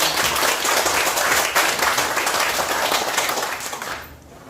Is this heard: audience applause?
yes